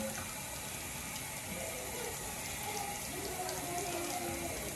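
Tap water runs steadily into a sink during handwashing, a continuous broadband splash and hiss lasting throughout at a moderate, even level with no voices.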